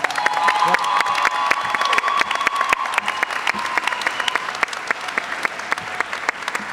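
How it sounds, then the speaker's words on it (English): A graduation crowd at a 2020 high school ceremony applauds steadily, dense clapping with scattered cheers and whoops, fairly loud and continuous throughout. "Give yourselves a round of applause."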